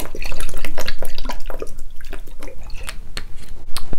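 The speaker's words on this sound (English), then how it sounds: "about 2 tablespoons of Worcester." About two tablespoons of Worcestershire sauce, added with salt and pepper to grass-fed beef, pour and drip close up in loud, uneven liquid spatters and trickles over four seconds, with no talking.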